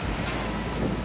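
Wind rushes steadily against the microphone in a brief, broad roar, with a low rumbling buffet throughout, on warm, windy Bonaire.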